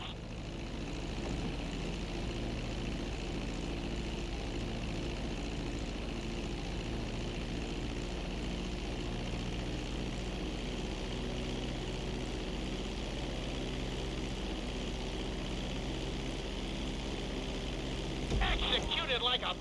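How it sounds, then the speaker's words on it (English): Propeller airplane in a flight video game approaching and landing on a runway, with a steady engine drone that holds throughout and a brief bump near the end, while a voice talks over it. "Be sure to deploy the landing gear before you reach the runway."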